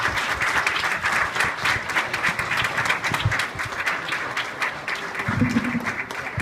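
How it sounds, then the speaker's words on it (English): Residents at a Fulshear city council candidate forum applaud the candidates, a lively, fairly close round of clapping with individual claps audible, a brief murmur of voices near the end. "Let's give all the candidates a round of applause,"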